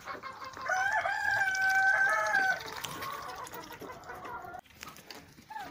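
A turkey lets out a loud, drawn-out call, then trails off into quieter rustling and farmyard noise.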